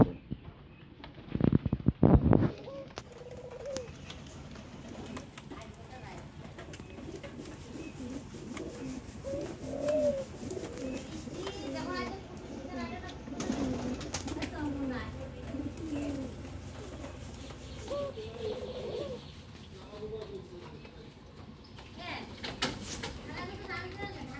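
Pigeons coo softly with low, rolling calls in a loft holding newly hatched chicks. The calls recur through the scene beneath a person talking and children's voices.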